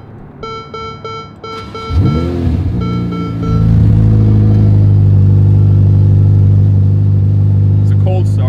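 Ferrari F8 Tributo cold start heard from the cockpit: electronic chimes, a starter whine, then the engine catches with a loud rising rev before settling into a strong steady idle, with a voice over the start.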